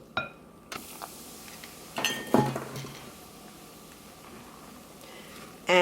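Gluten-free vegan no-yeast bread batter with rejuvelac and Perrier being mixed in a bowl, giving a few scattered clinks and scrapes of a utensil against the bowl, fairly quiet, with a brief louder clatter near the end.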